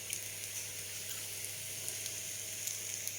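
Ghee poured a teaspoon at a time into a cooking sweet appam batter, giving a steady, moderate sizzle with small crackling pops and no voices.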